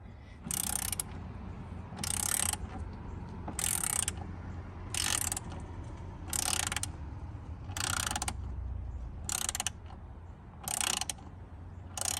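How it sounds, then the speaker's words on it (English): A ratchet wrench backs bolts out of the A pillar of a Jeep Wrangler, with nine loud bursts of fast clicking repeated at a steady pace and brief quiet gaps between them, with no talking. "So we'll take these 4 bolts out."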